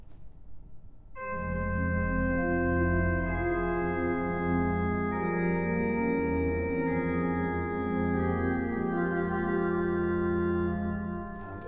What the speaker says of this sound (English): We have a rather lovely cornet,